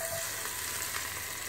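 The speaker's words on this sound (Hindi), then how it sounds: "ये तड़का दे दिया है मैंने इसको।" A turmeric and green chilli tadka poured onto cooked rice hisses in a continuous, loud, even sizzle that fills the whole moment without a break.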